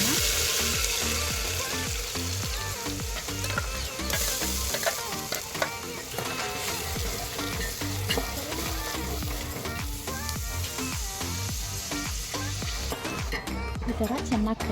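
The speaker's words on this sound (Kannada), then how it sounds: "ಈ ಥರ ಚೆನ್ನಾಗಿ ಫ್ರೈ ಮಾಡ್ಕೋಬೇಕು" Onions, ground masala paste and curry leaves frying in a pan for a village-style horse gram curry, a steady loud sizzle with frequent stirring scrapes and music throughout.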